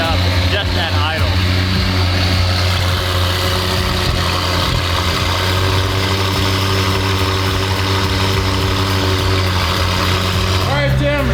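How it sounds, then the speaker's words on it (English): Car engine idling after being fired up, a loud steady low rumble with a constant hum that holds for about eleven seconds, close to the microphone, with a voice talking briefly at the start and end. "That sounds a lot louder and a lot better just firing it up, just at idle."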